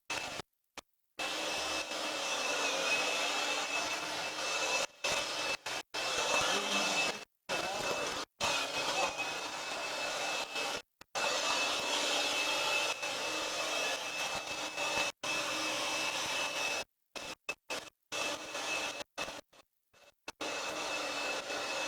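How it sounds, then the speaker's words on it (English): A leaf blower runs steadily with a loud, airy whine on an epoxy flooring job, clearing dust off the floor. The sound breaks up with repeated gaps, and people talk in the background. "I think the leaf blower, you have to have it on every job."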